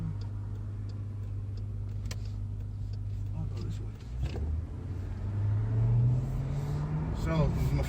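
Jeep Trackhawk SUV with supercharged Hemi V8 driving, a steady low cabin drone that swells as it accelerates and revs up, with a turn-signal ticking and a voice talking over it.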